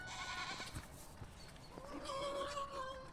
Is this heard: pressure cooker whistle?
no